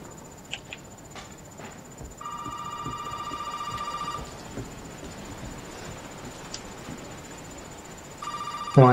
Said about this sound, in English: We'll answer the phone.